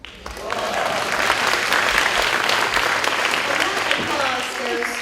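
Audience at a youth awards ceremony applauds the caterers, a high school culinary program, with a full burst of clapping that swells quickly and holds steady for about five seconds.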